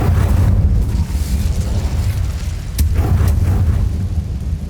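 Incendio fire spell cast in Hogwarts Legacy on PS5, a loud sustained low roaring burst with a sharp crackling flare near the three-second mark, no talk.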